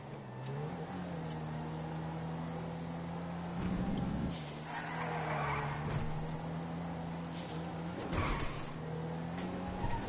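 A V8 Supercar spins out in a street-circuit racing game, its engine droning steadily throughout with tire squeal and scrubbing bursts mid-clip, loud and with no talking over it.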